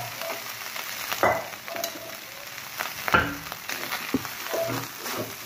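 Garlic fries in a pan with a steady close sizzle. Stirring adds scrapes and knocks now and then.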